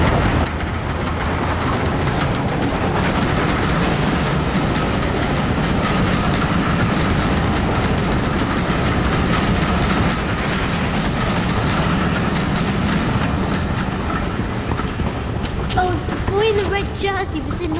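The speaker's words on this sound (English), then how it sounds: "A train! Stand back!" A train rumbles past close by with continuous clattering wheels and a loud, steady roar that lasts the whole stretch, while voices are heard over the noise.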